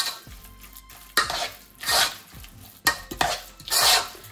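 Egg and mayonnaise sandwich filling is mixed in a bowl with a utensil, making close rhythmic scraping and squelching strokes with no speech.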